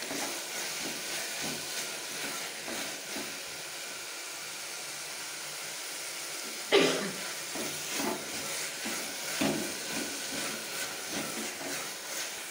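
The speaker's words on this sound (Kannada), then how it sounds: "ಒಂದು 2 ನಿಮಿಷ ಹೈ ಫ್ಲೇಮಲ್ಲಿ ಇಟ್ಕೊಳ್ಳಿ, ಇದನ್ನೆಲ್ಲ ಚೆನ್ನಾಗಿ ಫ್ರೈ ಮಾಡ್ಕೊಳ್ಳಿ." Brinjal gojju masala with added salt fries in a pan over a high flame, giving a steady hissing sizzle throughout with one sharp clatter partway and a few light stirring knocks.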